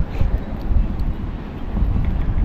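Gusty wind buffets an outdoor microphone on a boat or shore while fishing, a continuous low rumbling roar with uneven surges throughout and no speech.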